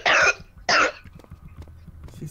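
Two sharp, loud coughs from a person who has just eaten, each a short burst, followed by quiet room noise.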